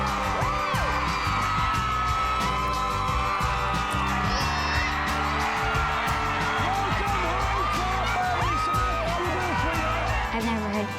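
A huge, noisy crowd screams, whoops and cheers continuously at high volume, a dense wall of yelling voices with scattered shouts standing out.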